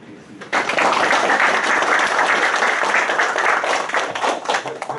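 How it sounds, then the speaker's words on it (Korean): Welcoming applause from an audience at a clan youth workshop, a dense, steady wash of many hands clapping that starts abruptly after a brief pause and holds loud and even throughout. "하여튼 환영의 박수를 드리겠습니다."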